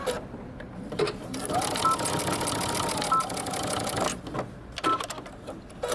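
Sewing machine stitching across the tops of folded belt loops, a steady continuous mechanical whir running for most of the span, stopping near the end, with brief softer bursts afterward.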